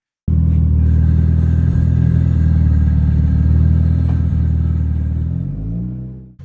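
A 2004 Mitsubishi Evo 8 MR rally-style street car with a built 600 bhp engine drives along, its loud, steady engine drone filling the clip before tapering off near the end.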